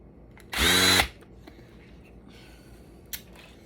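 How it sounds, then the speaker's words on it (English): A Torx screwdriver taking apart a phone gives one loud, close whirring burst of about half a second, followed by quiet faint clicks and a single short tap. "I'm using a Torx screwdriver to freaking"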